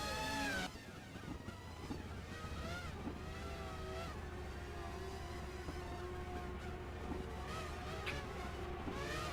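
Race cars in a racing video game, a pack bunched together in the midfield of the Lienz Altstadt race, their engines whining and shifting in overlapping rising tones, loud and continuous throughout.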